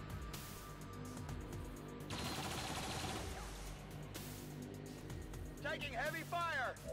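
Muffled, continuous gunfire in XCOM 2, a steady rattle of shots and impacts under game noise, with a brief burst of electronic chirping near the end.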